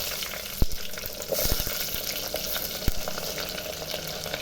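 Small onions frying in oil with mustard seeds and vadagam in a pan, a soft steady sizzle with a few sharp pops and light clinks, close and quiet, no speech.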